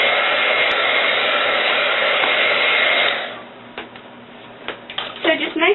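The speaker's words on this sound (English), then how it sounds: "Sometimes I will take my heat gun and" A heat gun blows steadily over alcohol ink for about three seconds, loud and close, then cuts off, leaving a few faint handling knocks and clicks.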